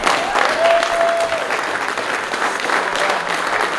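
A crowd applauds and cheers loudly at an amateur boxing match, dense sustained clapping with a whistle rising briefly above the noise, continuing evenly for several seconds.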